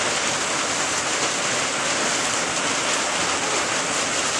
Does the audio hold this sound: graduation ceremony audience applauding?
no